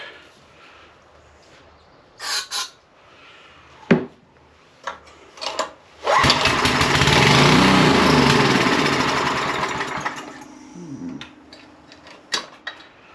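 A 20-plus-year-old Coleman Powermate 2250 generator gives a few sharp clanks and bursts, then its engine catches and runs loud and rough for about four seconds before dying away, followed by scattered knocks.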